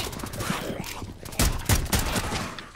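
Rifle fire in the video game Rainbow Six Siege, a steady run of quick shots at a tapping rhythm with a few louder cracks in the middle, fairly close and under light game noise.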